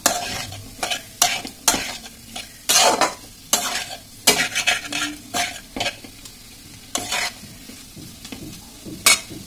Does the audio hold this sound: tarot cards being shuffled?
no